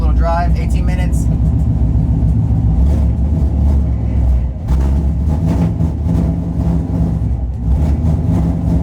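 Ford Mustang with straight pipes and a valvetronic exhaust driving on the road, a deep continuous exhaust rumble inside the car with occasional surges, while someone talks over it.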